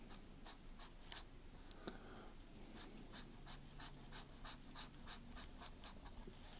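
A pen draws grapes on a wine label on paper, a series of short, rhythmic scratchy strokes in close, quiet bursts with brief pauses between clusters.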